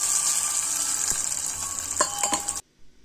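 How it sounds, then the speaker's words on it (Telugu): Mustard seeds, cumin and curry leaves sizzle and crackle in hot oil in a small kadai for a peanut chutney tempering, a steady close hiss with sharp pops near the end before it cuts off. "ఒక చిన్న కడాయిలో ఆయిల్ వేడైన తర్వాత ఆవాలు, జీలకర్ర, కొంచెం కరివేపాకు వేసుకుంటున్నాను."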